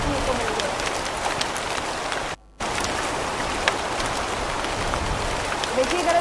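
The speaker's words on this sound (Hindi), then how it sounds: "देखिए, गरज के साथ भारी बारिश भी हो रही है बिहार में" Heavy rain with thunder in Bihar, a dense continuous downpour roaring close by, broken by a brief dropout, with no distinct thunderclap.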